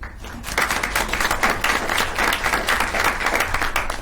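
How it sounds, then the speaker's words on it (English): A school board meeting audience applauds to welcome students about to give speeches; the clapping rises quickly and stays loud, close and dense to the end. "So let's first welcome them with a round of applause"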